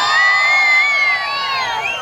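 A large crowd at a Mandya election campaign rally with actor Darshan cheers in high-pitched whoops and shouts, loud and close, fading slightly toward the end.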